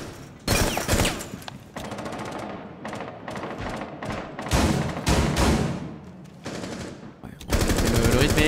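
Rapid automatic gunfire and bursts of shots in a PC tactical shooter match on the Oregon map, loud and dense with short pauses between volleys, over game music and effects.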